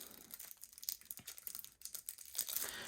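Plastic wrapping is crinkled and torn off an Arkham Horror card game campaign expansion, quiet close-up rustles and crackles in irregular bursts, no talking.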